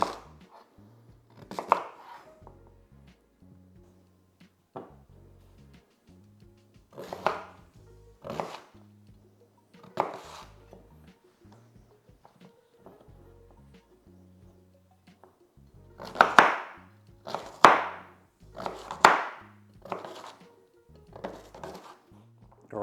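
Knife cubing a purple sweet potato on a cutting board, with sharp chops arriving in scattered clusters, sparse at first and then a dense quick run of cuts near the end, close and clear over a quiet background.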